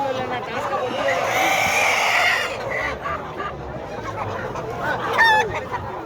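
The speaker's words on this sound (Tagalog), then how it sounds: "Ito, mga itik oh." Domestic ducks at a farm animal market make loud, busy calls, with other fowl clucking and a rooster-like cry toward the end, heard over steady crowd noise and someone talking.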